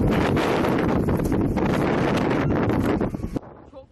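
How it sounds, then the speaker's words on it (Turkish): Storm-force wind roars loudly against the microphone in rough gusts, then suddenly drops off near the end. "İnanılmaz bir rüzgar var"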